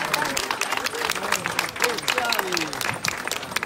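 A crowd at an outdoor political rally in Massa applauds steadily with dense, continuous clapping while someone speaks over it through the public address system.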